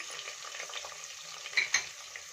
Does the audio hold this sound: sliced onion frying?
yes